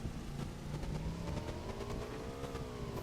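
A motorcycle engine in the mobile game Mobile Battleground revs, whining and climbing in pitch briefly, a faint game-style vehicle sound with no talking.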